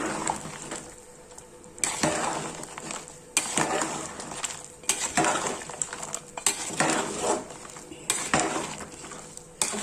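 Coconut powder and coriander powder being stirred into a pot of bottle gourd curry, a spoon scraping and clinking against the pot in repeated strokes, fairly close, with no talk.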